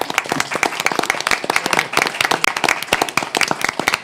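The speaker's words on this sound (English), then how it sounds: "I think you deserve a round of applause." A round of applause at a city board meeting, a brisk patter of many hands clapping close and lively throughout, with sharp individual claps standing out.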